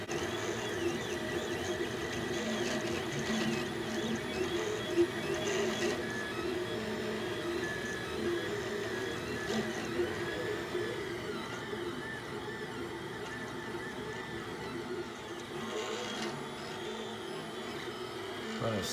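A Monoprice 3D printer runs steadily nearby, a continuous whirring hum of motors with fluctuating tones throughout, fairly quiet and with no one talking.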